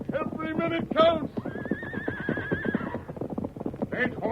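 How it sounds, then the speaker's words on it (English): Stagecoach horses in an old-time radio western drama whinny loudly and repeatedly at close range over clopping hoofbeats as they bolt and run off. "Stage horses run away."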